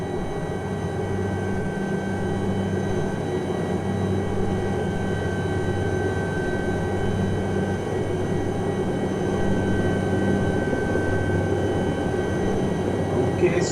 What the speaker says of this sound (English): Remember, this is a right power pedal helicopter.